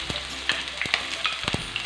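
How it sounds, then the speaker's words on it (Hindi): Finely chopped onions fry in a pan for aloo keema, a bright continuous sizzle broken by several sharp spatula stirs and scrapes, close and clear with no talk. "प्याज को फ्राई कर लेना है कि इसका कलर चेंज हो जाए और ये लाइट ब्राउन सा हो जाए।"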